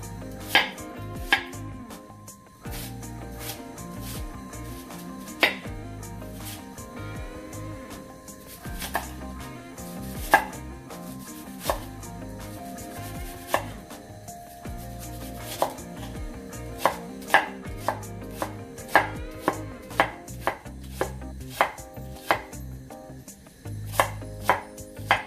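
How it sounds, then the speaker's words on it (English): Onions are chopped into small pieces on a cutting board with a knife, making a long series of crisp, irregular taps and thuds, close and clear with no talking. "So we're going to chop the onions"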